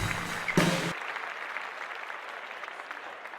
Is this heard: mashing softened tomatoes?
no